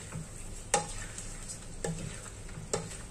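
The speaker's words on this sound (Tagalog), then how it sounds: "Okay. So, haluin lang natin para mag-absorb yung timpla natin." Prawns frying in a pan are stirred with a utensil, giving a steady sizzle broken by three sharp scraping knocks against the pan, close up.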